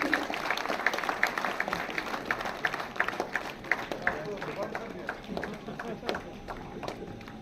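An audience applauds at an education rankings award ceremony, a sustained stretch of dense clapping from a crowd in a hall, with a voice speaking over it.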